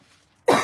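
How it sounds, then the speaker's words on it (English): A single sudden, loud cough bursts out after a near-silent stretch, from someone in a large warehouse holding a sale of display cabinets and furniture. "Stop coughing."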